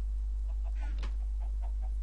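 Chickens in the Minecraft video game cluck in a short series of soft, evenly spaced game-sound clucks over a constant low background hum.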